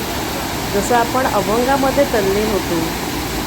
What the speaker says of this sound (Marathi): हा जो ऐकायला येणारा पाण्याचा आवाज आहे घुमणारा आवाज आहे